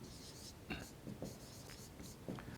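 Soft scratching of writing on a board during a maths lesson, a few faint strokes heard close, with a quiet voice over it.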